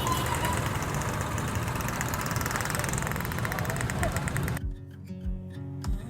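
A motorized becak, a motorcycle rickshaw, idles with a rough, rapid engine rumble that runs steady and close, then cuts to a quieter background with scattered clicks; a voice talks over part of it.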